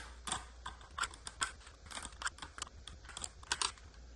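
A Dymo embossing label maker punches letters onto vertical label tape, a quick series of sharp clicking clunks in an uneven rhythm, close and clear with no talking.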